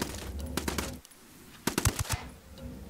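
Bursts of automatic gunfire in the video game Ghost Recon Wildlands, rapid shots in two clusters separated by a short lull, loud and close.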